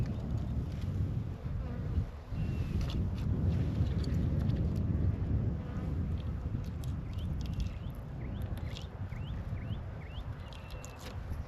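Honey bees swarm around a hive, producing a dense, continuous buzzing close by, with individual bees whizzing past now and then and a low rumble underneath; no one speaks.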